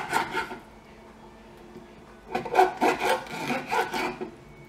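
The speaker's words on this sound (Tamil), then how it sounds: "இப்போ வந்து ரெண்டு சைடு ரக்கையும் கட் பண்ணிடலாம்." Knife cutting through the fins of a pomfret fish: short rasping, sawing strokes in two bursts, a brief pair early and a rhythmic run of five or six strokes later, close and clear with no talking.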